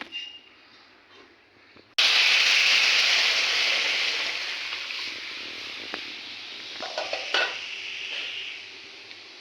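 Cucumber and papaya slices hit a hot pan and start frying with a sudden loud sizzle that holds steady, broken by a few clinks of stirring utensils near the end.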